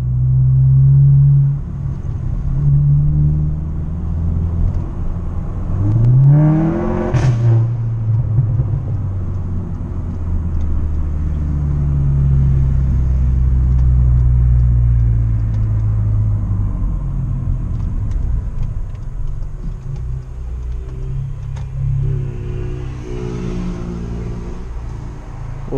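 A BMW M235 with a sports exhaust drives at night, its low engine rumble swelling and fading as it passes, with one sharp rev climbing quickly around the middle and another rise near the end.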